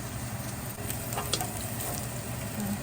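Garlic sizzles in a hot pan, a steady soft crackle and hiss with faint stirring clicks, close and continuous.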